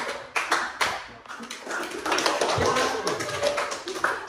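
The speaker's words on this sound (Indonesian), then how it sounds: "Ingat ya, tepuk 5." Classroom clapping game, the five-clap pattern: a run of quick sharp claps and taps from a group, dense and busy, overlapped by a teacher's voice and children's chatter.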